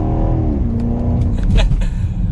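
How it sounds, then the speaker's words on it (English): On a downshift to second gear, the 2021 BMW Alpina XB7 SUV's engine gives a steady low exhaust rumble with a rising rev tone. Faint clicks and pops follow, heard from close inside the cabin. "you can hear that exhaust note just a little bit"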